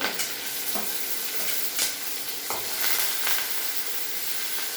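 Cumin, curry leaves and chillies crackle in hot oil in a thin pan while a sprouted green gram palya is being cooked, giving a steady close sizzle with scattered sharp pops and no voices.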